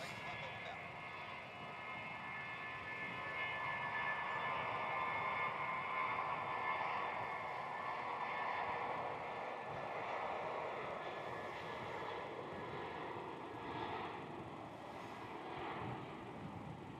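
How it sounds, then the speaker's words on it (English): Jetstar jet airliner rolling down the runway at Melbourne Airport for takeoff, a steady distant engine roar building slightly and holding through the whole stretch, with no talk over it. "And there's our Jetstar rolling."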